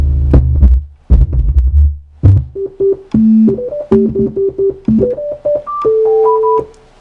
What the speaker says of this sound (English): So the most natural tuning fork you can get, bam, right here, sine wave.